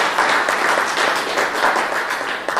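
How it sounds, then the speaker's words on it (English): Steady applause from a chaplains' symposium audience at an army address, dense clapping filling the whole stretch at an even, fairly loud level with no pauses. "give yourselves again a round of applause."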